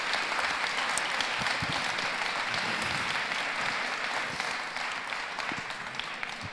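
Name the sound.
audience applause welcoming an author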